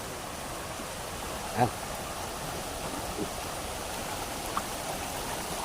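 A creek flows as a steady, moderately faint wash of running water outdoors, with a brief voice and a couple of small knocks over it.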